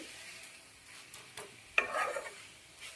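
A spoon scrapes and stirs coconut laddu mixture with sugar in a pan, a few soft scraping strokes and one sharper clink, faint and close, without talk.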